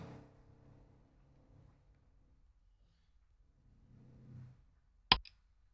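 A single sharp slide-transition click sound effect near the end, following a quiet stretch with faint low murmurs.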